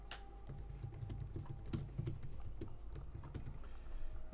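Keystrokes on a computer keyboard while setting up a first console app in Visual Studio 2022, a steady run of quick, fairly quiet clicks at close range with a low hum beneath and no talking.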